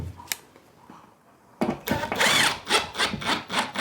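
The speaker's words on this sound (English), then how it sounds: "I'm going to put a drywall screw through that" A drill drives a drywall screw into oak on a staircase job: after a quiet start, a burst of loud, rapid whirring pulses runs close up until the end.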